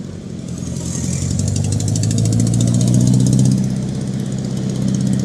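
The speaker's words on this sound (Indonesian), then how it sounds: "Rame kendaraan tuh" A busy road on the Nagreg route carries a loud, steady engine drone from nearby motor traffic that swells as vehicles pass close and then eases off slightly, with no talking.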